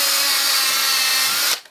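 Power drill boring a 2mm hole in plastic for a DIY solar Bluetooth stereo project, a steady high-pitched whine running loud and close for about a second and a half before cutting off abruptly.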